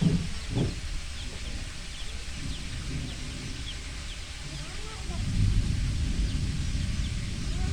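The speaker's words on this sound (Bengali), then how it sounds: "বাইরে তো অনেক বৃষ্টি, তাই পরিবেশটা একটু অন্যরকম লাগছে।" Steady, even hiss of heavy rainfall fills the background while someone talks over it.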